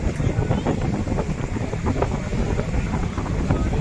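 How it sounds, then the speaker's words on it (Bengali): Strong wind buffets the microphone during a vessel trip on a river in stormy, rainy weather, a dense continuous roar with rushing water beneath it and no clear voices. "প্রকৃতির হাওয়ার শব্দটা আর বৃষ্টির যে কলকলানি আওয়াজটা"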